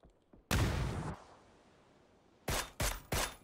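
Gunfire in a PUBG scrim, one long loud burst followed after a quiet gap by three sharp, closely spaced shots.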